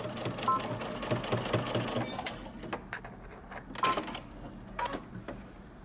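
Domestic sewing machine stitching a knit top seam with a short backstitch at the end, rapid mechanical whirring in bursts with brief pauses, close and moderately quiet.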